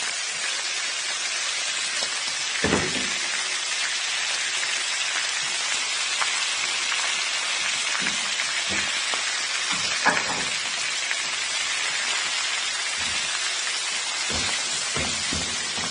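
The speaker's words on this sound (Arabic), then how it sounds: "ننزل بالبصل بتاعنا باتنين كيلو وعشرين معلقة كده عشان اعمل بيها الصوص" Two kilograms of onions frying in a pot for a sauce give a dense, steady sizzle throughout, with a few brief clanks of stirring and handling.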